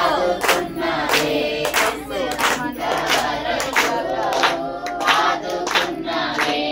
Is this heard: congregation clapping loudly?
yes